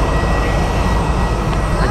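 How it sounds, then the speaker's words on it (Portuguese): A steady, loud roar of a Gol airplane engine, broadband and unbroken, at Florianópolis international airport during boarding. "A gente vai começar embarcando nesse aviãozinho da Gol."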